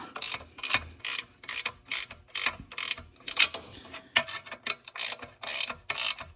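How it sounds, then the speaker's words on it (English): A ratcheting wrench working on catalytic converter bolts of a 2011–2020 Grand Caravan minivan, with short bursts of crisp ratchet clicking repeated about a dozen times in an uneven rhythm, close up, with brief pauses between strokes. "Highly recommend ratcheting wrenches on this."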